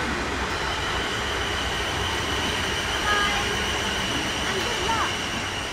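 Five-coach passenger train standing at a station, a steady low rumble and hum with faint squeals and murmuring voices in the background.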